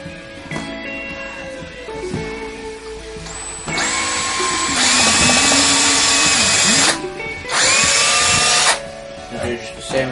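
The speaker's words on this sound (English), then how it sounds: "So I'm just going to drill through here." A handheld power drill bores through wood in a woodworking shop: short whirring starts, then two long, loud grinding runs with a pause between, while a person speaks briefly.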